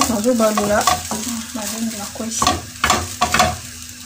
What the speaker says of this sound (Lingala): Nazobalola nyampulu na ngai poko râpe.